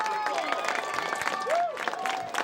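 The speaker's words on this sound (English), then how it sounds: "Please stand and give a round of applause for the seniors and their parents" A stadium crowd at a high school football game applauds and cheers for seniors and their parents, dense clapping with a tonal whistle-like sweep and murmuring voices mixed in.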